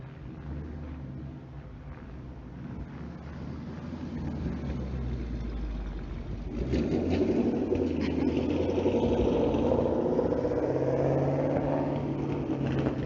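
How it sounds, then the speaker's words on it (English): A loud car close by rumbles at a low idle, then swells into a heavier, louder roar about halfway through and holds there, with no talking over it. "Oh my God, this loud ass car."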